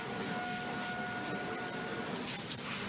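Water sprays steadily from a shower head in a dense, hissing rush that stays constant throughout, with no voices.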